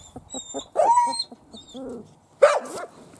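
A puppy barks in a village home, giving a few sharp, close yips and one louder bark, with soft whimpers and short pauses between them.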